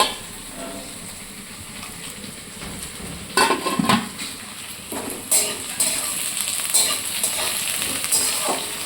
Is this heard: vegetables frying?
yes